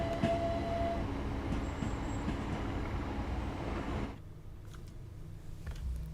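Train departing London Victoria in Train Sim World 3, a steady rolling rumble of wheels and motors close by for about four seconds, then dropping to a quieter hum with faint clicks.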